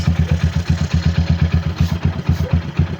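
A Rusi RC250 motorcycle engine, started cold with the choke on, idles with a rapid, even thumping beat, loud and close throughout.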